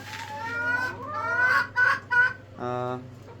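Chickens on a poultry farm cluck and squawk nearby, rising and falling harmonic calls overlapping, with a couple of sharp loud bursts and a sustained squawk near the end.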